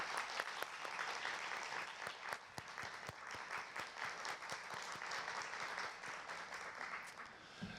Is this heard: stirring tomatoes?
no